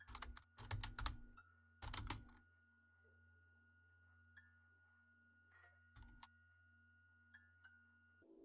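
Command typed on a computer keyboard in the game KinitoPET: quick clusters of crisp key clicks at the start, then sparse single taps and faint beeps over a low hum.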